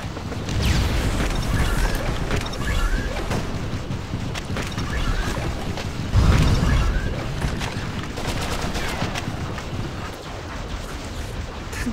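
Gunfire and explosive booms in the shooter game Shadowgun, a dense, continuous barrage of loud blasts with a heavier burst about midway, steady throughout with no talking.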